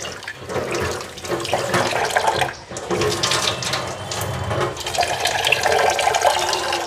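Mung dal being washed under running water, with tap water gushing and splashing continuously in a sink, briefly pausing before resuming.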